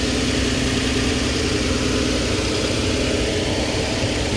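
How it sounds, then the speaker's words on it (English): A 2013 Nissan Xterra 4WD idles smoothly with a steady, even engine drone and no other sounds. "You see the engine sounds really good, really smooth."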